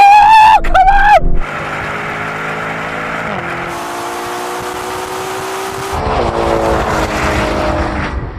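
Ferrari Purosangue and Lamborghini Urus SUVs race side by side, their engines droning loud and steady with rising pitch sweeps as they pass, then a second surge of engine noise. A voice briefly shouts near the start.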